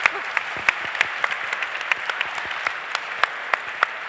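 Light, scattered applause from a conference panel audience honoring the women present, individual claps popping irregularly over a soft murmur of clapping, no talk heard.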